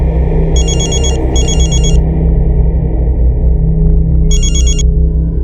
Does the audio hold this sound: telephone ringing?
yes